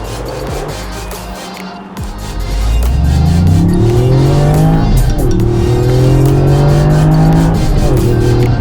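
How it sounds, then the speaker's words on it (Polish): A small three-cylinder Toyota GR Yaris engine idles, then accelerates with a rising, steady hum, rev tones climbing through the gears close by, in sport mode on a race track. "Mały silnik trzycylindrowy, ale naprawdę fajnie mruczy."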